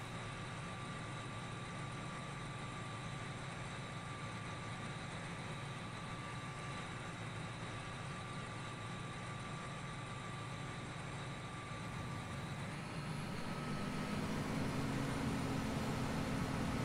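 Tractor and combine engines idle steadily in Farming Simulator 17, a continuous low mechanical drone with a faint whine that swells slightly louder near the end, with no talking.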